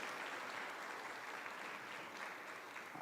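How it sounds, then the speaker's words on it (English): A seated audience at a white coat ceremony for speech-language pathology students applauds in a steady, even burst of clapping, fairly faint and distant, with no voices over it. "Give yourself a round of applause."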